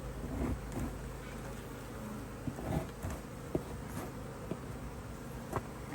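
A honeybee swarm housed in a HiveIQ hive hums with a faint, continuous buzz that is low and even, broken by a few soft bumps and knocks.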